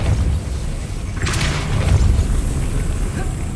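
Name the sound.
Depulso spell cast, from the video game Hogwarts Legacy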